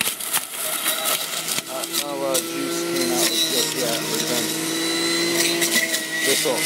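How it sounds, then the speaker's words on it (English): A juicer whirs steadily while juicing kale and celery, a continuous mechanical motor hum running throughout with a voice talking over it. "I'm juicing everything that you see here."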